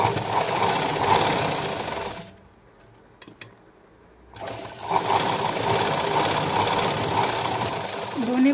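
A sewing machine stitches blouse pieces together in a fast, close, steady mechanical whir. It stops for about two seconds and brief clicks of handling fill the gap. Then it resumes at the same rapid pace.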